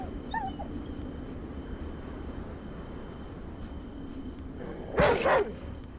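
A dog whimpers in the Atom RPG video game, with a short high yip or whine near the end standing out over a steady low background rumble.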